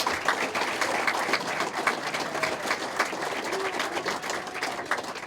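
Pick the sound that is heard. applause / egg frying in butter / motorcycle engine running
applause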